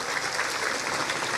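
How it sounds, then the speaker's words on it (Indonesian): Audience applause for the vocational school SMK Kesuma, a dense, steady wash of many hands clapping throughout, loud and close with no talking over it. "Tepuk tangan untuk SMK Kesuma"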